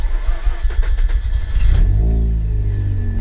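A car at a Copart salvage yard with its check engine light on cranks briefly, fires right up with a loud rev, then settles into a steady, close idle.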